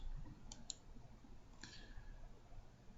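A computer mouse clicks while working in a word processor's print preview, giving a couple of faint, quick clicks close together, then another single click a second later over a quiet room hum.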